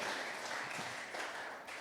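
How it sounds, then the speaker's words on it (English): A church congregation claps together as a clap offering of praise, a soft, steady wash of many hands heard from a distance, fairly quiet and unbroken. "Another clap offering to praise God tonight."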